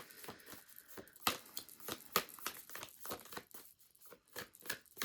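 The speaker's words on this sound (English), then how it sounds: "I'm going to keep shuffling." Quiet papery rustles and crisp snaps repeat irregularly, like cards being shuffled up close, with no voices.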